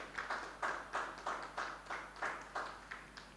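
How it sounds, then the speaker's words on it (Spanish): An audience at a horse award ceremony claps in a steady, evenly spaced rhythm, about three beats per second; the clapping is faint and distant, with no other sound over it. "para el cual pedimos un aplauso"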